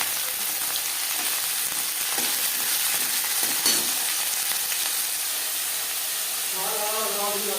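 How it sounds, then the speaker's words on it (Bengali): Potato pieces fry in a few spoonfuls of hot refined oil for a bhindi aloo bhaja, giving a steady close sizzle and hiss throughout with a little stirring. "4-5 চামচ রিফাইন্ড অয়েল গরম করে নিয়েছি। এবার দিয়ে দেব আলু।"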